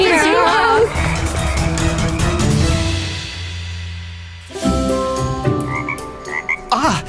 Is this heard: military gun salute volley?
no